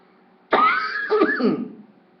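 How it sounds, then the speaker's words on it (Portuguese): A single rough cough, close and fairly loud, breaking into a couple of raspy bursts before fading into quiet. "Repare no detalhe da tosse"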